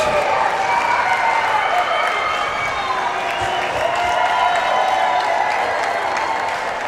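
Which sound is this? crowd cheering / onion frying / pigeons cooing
crowd cheering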